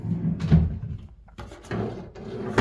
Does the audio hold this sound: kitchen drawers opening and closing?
yes